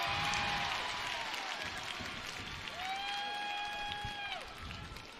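A high school basketball crowd in a gym roars and applauds during free throws, a sustained loud din of cheering with squeaking sneakers and a few whistles cutting through.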